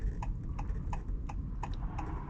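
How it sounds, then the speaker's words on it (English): Steady, evenly spaced clicks of a 2023 Honda Accord Hybrid Sport's turn signal, about three per second, heard over a low engine and road hum in a quiet cabin. "all I hear is a turn signal indicator, obviously, which is pretty loud"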